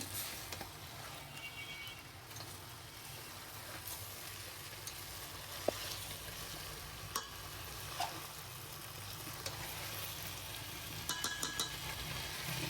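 Food sautéed in a pan gives a steady, close sizzle with faint scraping and a few sharp clicks of a utensil against the pan, and no one speaks.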